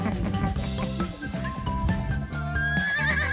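A pony whinnies at a birthday party, a loud, wavering neigh over busy background noise and possible music.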